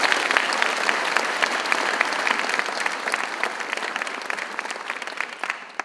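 A school auditorium audience at a military signing day bursts into loud, sustained applause, a dense wash of clapping that holds steady for several seconds before tapering slightly.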